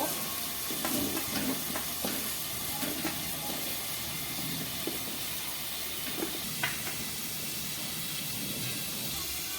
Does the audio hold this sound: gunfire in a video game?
no